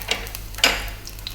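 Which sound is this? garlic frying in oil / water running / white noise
garlic frying in oil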